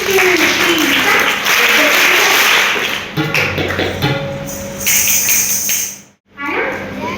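Students in a school workshop clap a rhythm together, sharp broadband claps in unison at a steady pulse, loud and close, with a brief pause before resuming; voices are faintly present.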